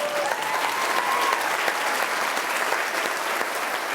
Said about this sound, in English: Let's hear it for Bruce Gibson.